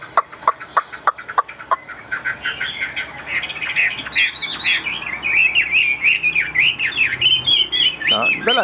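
A Tam Hoàng songbird with a yellow bill and yellow legs sings a continuous, lively warbling song up close, preceded by a run of sharp clicking taps, loud and alone without talk.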